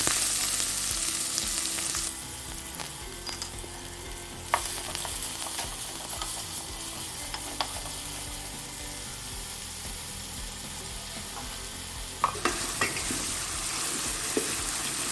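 Onions fry in a pan with fennel seeds, giving a steady close sizzle throughout, with occasional stirring scrapes and clinks, and brighter surges of hiss near the start and end.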